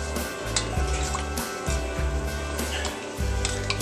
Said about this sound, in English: Get the warm, lukewarm water that I'm going to add